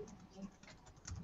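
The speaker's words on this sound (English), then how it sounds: "So the typing part is easy." Quick, light tapping on a computer keyboard while typing a blog post title, soft and close with a faint voice underneath.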